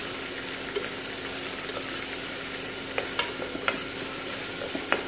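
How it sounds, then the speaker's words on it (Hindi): Onions sizzle and fry in a pan for a mutton dinner, with a constant hiss and a few scraping knocks as they are stirred. "तो सबसे पहले हम इसमें प्याज डालेंगे। अच्छे से भूनेंगे।"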